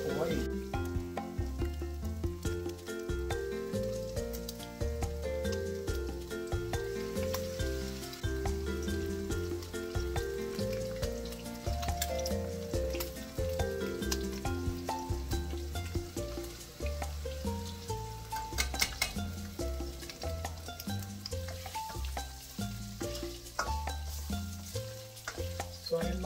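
Okoy fritters frying in a pan, a continuous close sizzle of hot oil running throughout, partly masked by loud music with a strong beat, with occasional talk.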